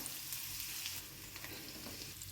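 Spiny bitter gourds sizzle and crackle steadily in a hot pan while being stirred, a loud continuous fry with faint scraping, no voices.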